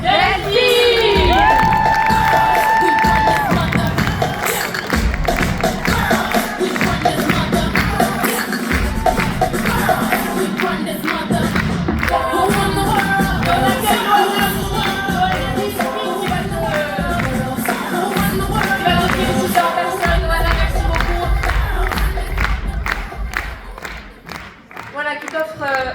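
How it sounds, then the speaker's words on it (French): A crowd rises in a standing ovation for Delphine, with loud clapping, cheers and whoops swelling over music, some voices and thumps mixed in, easing toward the end. "on va se lever et on va faire un tonnerre d'applaudissements"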